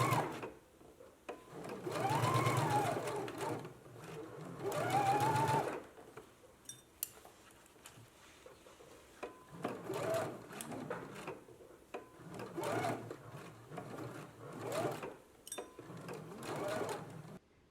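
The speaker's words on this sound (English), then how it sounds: "we can stitch on a 5/8 of an inch seam allowance" Sewing machine stitching princess seams on a bodice at a 5/8 inch seam allowance, close rapid whirring in repeated bursts of a few seconds with brief pauses between them.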